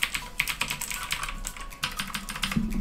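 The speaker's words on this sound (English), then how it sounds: "It takes less force to click the key, and on the blue it takes a little more force," Someone types quickly on a Steelseries Apex 7 mechanical gaming keyboard with clicky blue switches. The keystrokes are close and crisp in a steady, uneven patter, with no talking.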